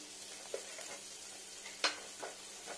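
Chana dal bara frying in oil, a quiet steady sizzle with a few soft stirring clinks and scrapes, no talking.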